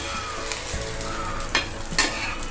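A cheese egg bread toast fries steadily on a hot pan as it is flipped, giving a constant close sizzle with a couple of brief scraping knocks from the turner.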